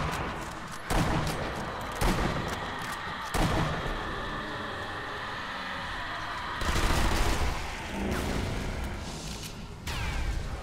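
Gunfire in a zombie-shooting video game: several sharp, loud shot bursts spaced a second or more apart, with a longer heavy volley in the middle, over a steady rumbling game background.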